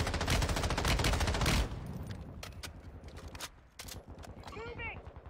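Dense rapid gunfire rattles in a shooter video game, loud and continuous for the first second and a half, then scattered single shots and distant bursts follow, with game sounds in the background.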